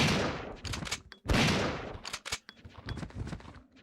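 Gunfire in Resident Evil 3 Nemesis on GameCube, a series of sharp shots and short rapid bursts with booming hits, loud and irregular, separated by brief pauses.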